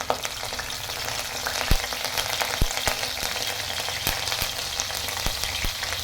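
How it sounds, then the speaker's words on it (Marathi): Garlic-ginger paste and curry leaves spitting in hot oil in a pan, a steady close sizzle with sharp pops and crackles scattered throughout. "तेल आता गरम झाले आहे याच्यात लसूण आणि अद्रकची पेस्ट टाकते थोडा कढीपत्ता"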